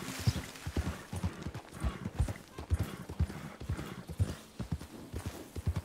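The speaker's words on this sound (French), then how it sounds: "Je vois déjà un cheval ici." Horse hooves in Red Dead Redemption 2 clip-clopping at a steady trotting rhythm, fairly close and quiet, with faint movement noise around them.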